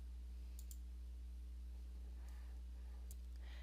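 Computer mouse clicks while working in ArcMap software: a quick double click near the start and a single click later, sharp and light over a constant low electrical hum.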